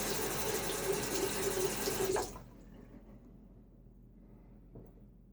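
Tap water runs to rinse a safety razor, a steady close rush that stops abruptly about halfway through and leaves a quiet room with a faint knock.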